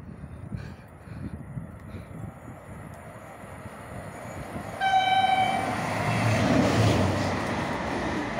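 A passing train in France sounds a long, tonal horn about halfway through, over the rising rumble of the rail cars running along the track.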